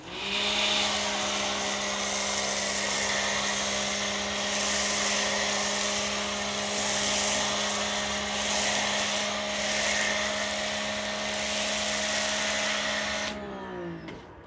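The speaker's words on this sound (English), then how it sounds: "Here's our 1800 PSI pressure washer." A Ryobi 1800 PSI electric pressure washer runs with a steady, loud motor hum and hiss of spray while foaming for about thirteen seconds, then abruptly shuts off and winds down.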